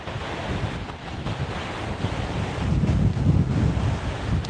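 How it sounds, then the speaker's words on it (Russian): Stormy sea off a beach in Anapa. Strong wind roars and buffets the microphone over the steady rush of breaking waves, loud and continuous with no talking. "Ветер усиливается, волна тоже."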